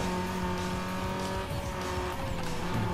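A Mazda Miata screams through tight corners in Need for Speed Underground 2, its steady engine drone loud and continuous with tire squeal and skidding throughout.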